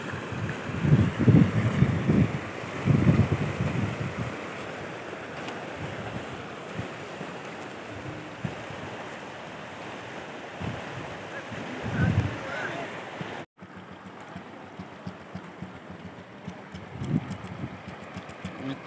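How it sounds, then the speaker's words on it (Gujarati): Heavy village rain with floodwater rushing past outdoors, a constant rough roar and wind buffeting the microphone, with louder bursts of splashing early on and voices talking over it at times. "જોરદાર વરસાદ થઈ ગયો છે"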